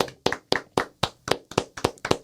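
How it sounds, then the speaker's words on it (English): Hands clap in a steady rhythm, about nine sharp, close claps spaced evenly with no talking over them. "Let's start off with an applause"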